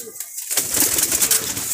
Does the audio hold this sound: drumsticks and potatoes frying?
no